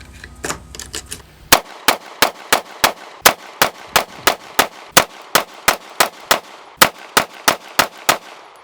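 CZ 75 pistol variants fired at a shooting range: a few scattered shots, then a long rapid string of about twenty loud, sharp reports at a steady, even rhythm, close by with no talking.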